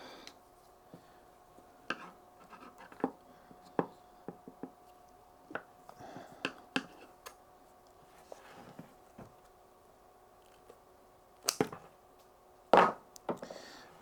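A cutter snips through thick 95mm DC battery cable in a series of sharp, close clicks and crunches, irregularly spaced and growing into a few louder bursts toward the end, with no talk.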